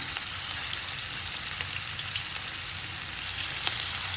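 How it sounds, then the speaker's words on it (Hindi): Chicken seekh kebabs frying in hot oil give a steady, dense sizzle with fine crackling pops throughout, close and even in level, with no voices. "इसको अब एक एक करके इसको तेल में फ्राई करेंगे"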